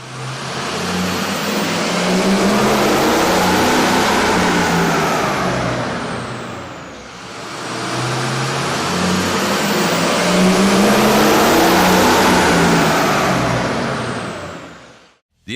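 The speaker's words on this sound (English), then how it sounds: "we ran the vehicle on the dyno to test the sound comparison versus the stock intake" A Ford Super Duty 6.0L diesel fitted with an aftermarket air intake runs hard on a dyno, a loud sustained engine roar with intake rush that swells, dips briefly midway, then rises again before cutting off.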